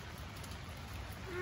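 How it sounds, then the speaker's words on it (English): Heavy rain during a thunderstorm falling on a tent, a steady dense hiss of drops, fairly faint and even, with no talk. "rain started coming down pretty heavy"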